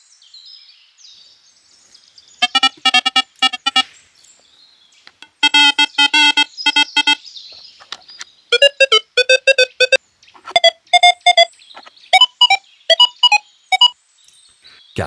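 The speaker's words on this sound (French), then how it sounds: "dernier choix de tonalité avec le mode multiton" Versa metal detector in multitone mode sounding a series of bursts of rapid electronic target tones, each burst a fast train of pitched beeps that shifts in pitch, loud and clear with gaps of near silence between them.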